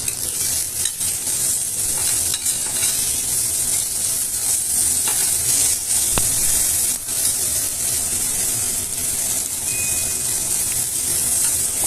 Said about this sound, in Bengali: খুব ভালো করে মশলাটাকে ভেজে নিব।